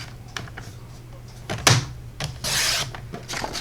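A piece of cardstock for a handmade thank-you card is cut on a paper trimmer, giving short scraping strokes and a brief swishing slice near the end, close and fairly quiet.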